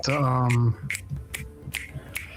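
A voice holds a long tone, then several sharp finger snaps follow one after another, crisp and close, at an uneven pace.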